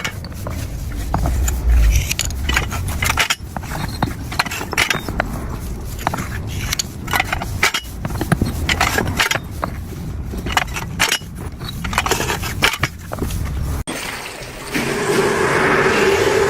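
An interlocking paving stone guillotine cuts stones with hydraulic or mechanical leverage, producing repeated sharp cracks, scrapes and gritty crunches in an irregular rhythm, with a brief change in background noise near the end.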